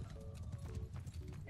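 Rhythmic hoofbeats from a ridden horse in Mount & Blade II: Bannerlord patter quickly and evenly, mixed with fainter talk and game sounds.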